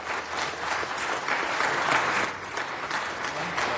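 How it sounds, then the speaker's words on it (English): Sustained applause from an audience at a city council meeting, a dense steady wash of many hands clapping at even loudness for the whole stretch, with no voices over it. "Give him a round of applause and thank him again."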